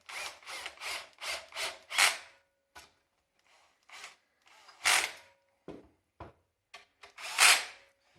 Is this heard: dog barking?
no